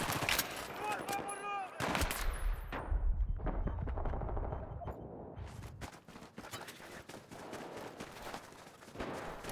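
Rapid FAMAS rifle gunfire in Battlefield 3 close-quarters combat, sharp bursts of shots mixed with explosions, other game weapon sounds and a low rumble, loud and close with some game audio between volleys.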